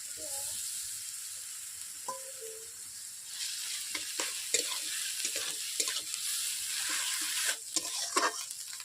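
Onions sizzle steadily in a pan as ginger garlic paste is added and stirred in for a village-style rui fish curry. A continuous hiss sits beneath repeated scraping strokes of a spatulа, growing busier and louder partway through.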